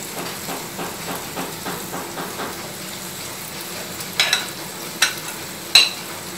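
Paneer being stirred into a pot of veg biryani over a low flame: a soft, steady rhythm of spoon strokes over a faint simmer, with a few sharper scrapes near the end.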